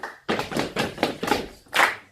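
Hand claps in a simple rhythm warm-up during a university music lesson in Cologne: about five sharp, fairly close claps in an uneven pattern, with brief gaps between them.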